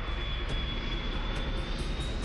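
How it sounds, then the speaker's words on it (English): Low-flying airliner on a final approach attempt toward an unseen runway, a loud, steady engine roar with a faint high whine running through it, with no voices. "The plane comes in low."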